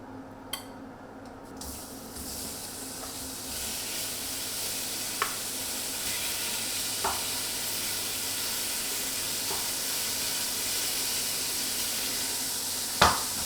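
Beef sears in a hot pan, worked in batches after bacon, with a steady quiet sizzle broken by a few sharp pops and a louder crackle near the end.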